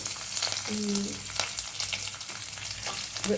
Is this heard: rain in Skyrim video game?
no